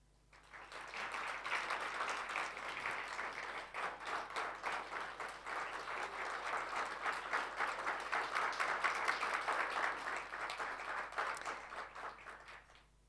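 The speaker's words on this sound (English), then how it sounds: "Please rise to your feet and give a round of applause to our judicial officers present tonight" A round of applause at an anniversary gathering of magistrates and judges, steady clapping from a large audience swelling in from quiet, holding evenly, then tapering off; distant and soft.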